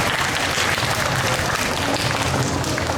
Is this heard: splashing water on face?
no